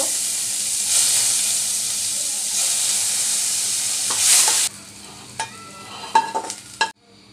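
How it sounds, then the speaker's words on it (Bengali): Onions lightly frying in a pan give a strong, continuous close sizzle for several seconds, then the hiss drops away into quieter stirring with a few sharp utensil clinks and scrapes; nobody speaks. "এবার পেঁয়াজগুলো একটু হালকা ভাজা করে নিব"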